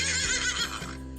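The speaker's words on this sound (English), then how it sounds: "Horse, caballo." A horse neighs loudly and close by, one whinny with a shaky, descending pitch that fades out within about a second, heard on its own with nothing else around it.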